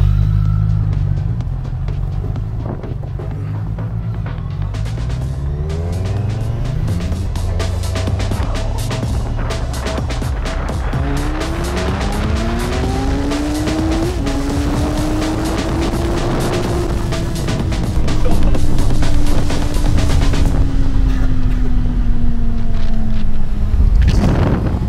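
Fast electric scooters accelerate side by side in a race, their motors whining in rising pitch sweeps that climb and level off over a steady rush of wind and road noise, growing louder near the end.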